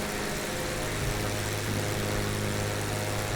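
Piaggio P-166 twin engines in Microsoft Flight Simulator at zero throttle, producing a steady, continuous low drone with a faint tonal hum that holds level throughout, with no talking over it.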